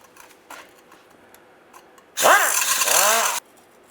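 A rusty exhaust flex pipe bolt on a 2007-2013 Chevy Silverado is cut off with a power tool, giving one loud, harsh, whining burst of about a second, with faint clicks just before it.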